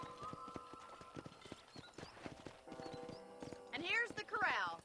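Horses in the Red Dead Redemption 2 video game, hooves clip-clopping in quick steady beats before loud whinnies near the end, fairly close.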